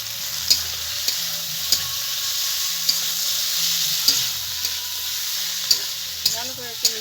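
Fried potatoes and cauliflower sizzle in a spice masala with diced tomato as a spatula knocks the pan in repeated sharp taps, a loud steady frying hiss running underneath.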